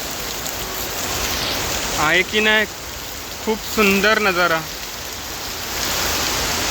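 Heavy rain pours down in Singapore at Palawan Greens, a loud, steady hiss of falling water that continues under a man's brief speech.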